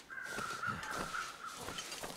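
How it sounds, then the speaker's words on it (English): Crows caw in the survival video game The Long Dark, several harsh calls in a loose series at moderate distance over a quiet outdoor ambience. "I do hear some birds this way"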